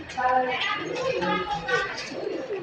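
Domestic pigeons, including fancy and tumbler breeds, cooing close by in a loft, repeated soft throaty calls overlapping throughout, with voices in the background.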